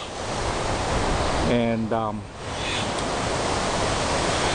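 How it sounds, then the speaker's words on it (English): Ocean surf at the base of the Kalaupapa Trail makes a broad, constant wash that fills the whole scene, and a brief spoken word rises over it midway. "that's the ocean over there."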